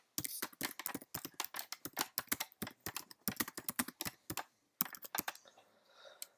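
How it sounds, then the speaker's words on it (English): Rapid typing on a computer keyboard while entering text into a PowerPoint slide, a dense run of close, crisp key clicks with brief pauses, ending in a softer trailing noise. "I can now enter the text just by simply pressing on the keyboard"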